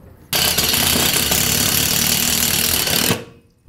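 A power driver runs bolts into wall studs inside an enclosed trailer to mount horizontal E-track: one loud, steady, continuous whir lasting about three seconds, starting abruptly and cutting off sharply, with no talking.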